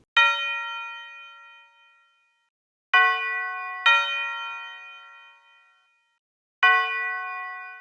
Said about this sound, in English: This one is just like a typical like tubular bell.